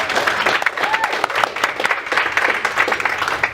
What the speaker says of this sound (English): Killian, yeah, you're gonna applaud.